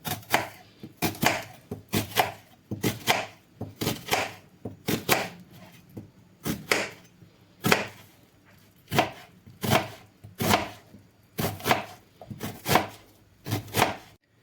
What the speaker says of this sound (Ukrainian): нарізаю цибулю кубиком